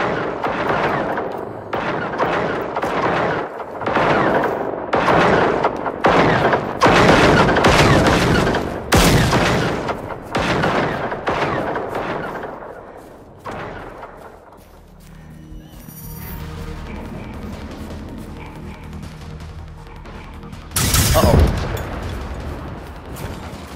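Gunfire aimed at tanks in the Generation Zero video game: dense, loud volleys of rapid shots and booms for the first half, then quieter rumbling and a single heavy blast near the end.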